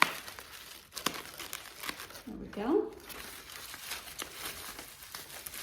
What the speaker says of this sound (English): Let me cut this. It'll be a little bit easier to open.